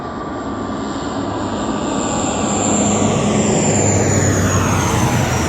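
An airplane flies overhead, a loud steady engine roar building slightly and sustained throughout, heard alone without talk.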